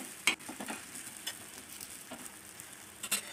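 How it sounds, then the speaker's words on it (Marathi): Thalipeeth flatbread roasting in a pan with a little oil, giving a faint, soft sizzle with a few light scraping and stirring touches, close and quiet, no talking. "आणि असं खरपूस भाजून घ्यायचं."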